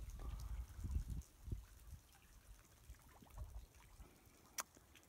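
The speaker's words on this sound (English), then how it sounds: "Just the sounds of the icicles dripping down into the water as the waves come in." Faint drips and trickles of icicles melting into seawater over quiet, lapping waves on an ocean shoreline in Cape Breton, irregular and close, with soft low splashes.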